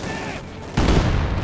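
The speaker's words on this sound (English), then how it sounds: "Grenades being exchanged." Grenades and gunfire in the Company of Heroes 2 strategy game: a steady rumble of distant battle, then a sudden louder crackling burst of explosive blasts and shots that keeps rolling to the end.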